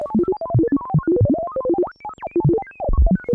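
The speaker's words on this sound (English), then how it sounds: "It's the sound of a computer computating" An Instruō Tágh modular synth oscillator produces a classic sci-fi computer sound, rapid random bleeping tones jumping in pitch in a fast burbling sequence, clear and alone.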